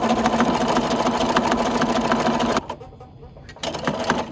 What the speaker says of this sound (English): I'm going to back stitch and sew forward again.